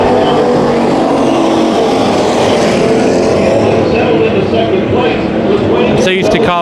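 Race cars at Bakersfield Speedway roaring out of a corner as the field accelerates, a loud continuous engine drone with an announcer talking over it.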